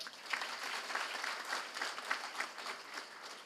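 An audience at a political gathering applauds, a brief burst of dense, even clapping heard from a moderate distance, steady for a few seconds without any voices over it.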